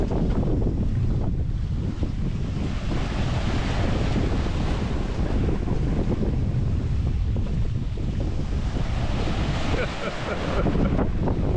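Steady roar of ocean swells and gusting wind buffeting the microphone aboard a sailboat crossing from Martinique to Dominica, loud and continuous with water rushing along the hull and no talk.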